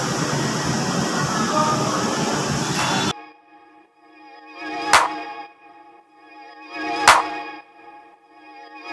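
An LRT Line 1 light rail train in Manila rushes with a loud, broad roar for about three seconds, then falls quiet apart from two short, ringing tonal signals spaced a couple of seconds apart.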